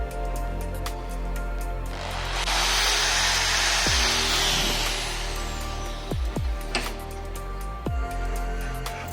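A drill bores a hole into a metal piece, a whining bite that swells loudly for a few seconds over a steady motor hum, followed by several sharp clanks and taps as the tool settles.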